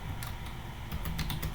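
Typing a Linux mkdir command on a computer keyboard, a quick run of close, crisp key clicks at an uneven pace.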